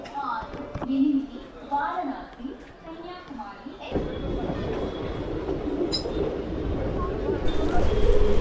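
A train pulls out of Warangal railway station on the Bhimavaram to Nagarsol run, a rumbling wheel-and-carriage roar building steadily after some nearby voices and platform chatter.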